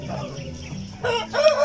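A Polish or Frizzle Polish rooster crows close by in a backyard, a single drawn-out call rising loud toward the end over soft low background sound.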